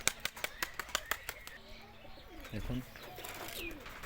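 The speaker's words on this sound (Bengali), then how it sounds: "আসুন আরও একটা বাজির পায়রা আপনাদের দেখাচ্ছি" Domestic tumbler pigeons beat their wings in a rapid run of sharp flaps close by, followed by soft low cooing, while someone talks over them.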